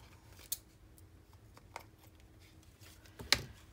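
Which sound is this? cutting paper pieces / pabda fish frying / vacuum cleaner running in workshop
cutting paper pieces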